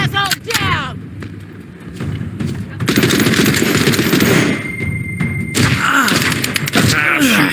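Gunfire in the video game Walking Dead Saints and Sinners, loud bursts of shots and heavy thuds in rapid clusters, close and dense, with some groaning vocal sounds mixed in.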